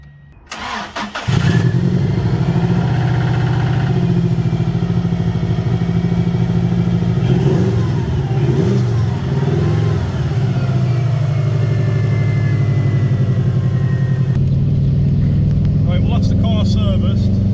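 A Subaru Impreza WRX engine cranks briefly, catches and settles into a loud, steady idle after a service, running close up and continuously with some talk over it.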